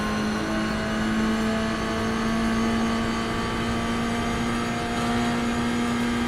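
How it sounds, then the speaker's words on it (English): Lamborghini GT3 V10 engine in the iRacing sim, a loud, steady drone held at a sustained pitch throughout, with no clear downshift blips standing out. "Lamborghini V10 though, perfect. Especially on the downshifts, like in low speed corners."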